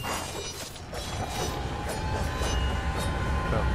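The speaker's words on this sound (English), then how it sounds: "Whoa, it's the train." The infernal train in Alice: Madness Returns rolls past with a rumbling low roar, rhythmic clickety-clack beats and a faint metallic whine, growing louder as it approaches.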